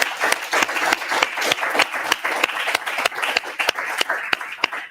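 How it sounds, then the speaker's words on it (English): An audience applauds after startup class pitches, a dense burst of handclaps from a room of people that holds steady and breaks into sharp individual claps, loud and close. "Let's give them a big round of applause."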